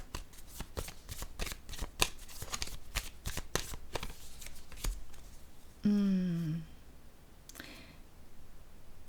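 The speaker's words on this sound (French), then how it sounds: "Je vais déposer une carte sur celle-ci." Tarot cards being shuffled and handled in a rapid run of crisp flicks and riffles, followed by a card laid down with a short scraping slide and a final soft tap.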